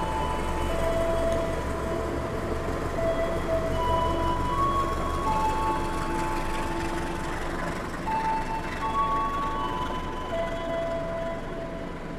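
The Tawang Jaya Premium passenger train, running from Semarang Tawang to Pasar Senen, rolls past on the adjacent northern track at a station, a sustained rumble of wheels with intermittent high squeals, steady and fairly loud throughout.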